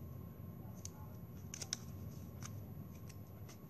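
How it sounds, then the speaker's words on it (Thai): Scissors snip through folded drinking straws, cutting them into lotus-flower petals; a few sharp, close clicks and snips stand out over a low steady hum, with no talking. "ตัดเป็นกลีบดอกไปเลยค่ะ"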